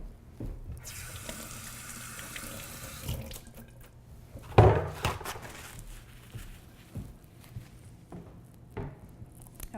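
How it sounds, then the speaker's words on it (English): Tap water runs into a kitchen sink while a hand is washed beneath it, a soft steady splash with a brief louder burst midway, faint handling noises around it. "just going to wash my hand quick"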